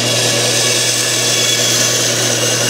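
A bandsaw runs and cuts through material with a loud, steady whine and a broad hiss of blade noise, continuous and close with no pauses.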